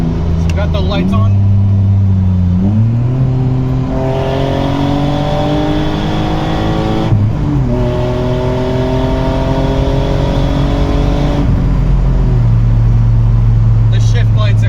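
Loud BMW race car engine while driving, a strong, steady roar that climbs in pitch through the revs, drops sharply at gear shifts and climbs again, close and dominant throughout.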